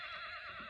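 A horse whinnies in a faint, brief, wavering neigh, heard alone at a distance.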